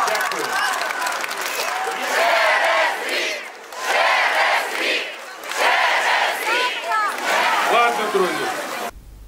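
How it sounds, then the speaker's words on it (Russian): A large crowd at a political rally chants a slogan in loud, rhythmic waves of massed voices, with brief dips between repeated bursts before the chant trails off at the end. "толпа начала скандировать «через год»"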